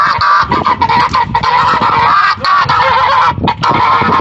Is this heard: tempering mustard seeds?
no